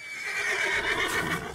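A horse neighs in Red Dead Redemption II, a single loud, close whinny stretching across the moment with a wavering, breathy pitch.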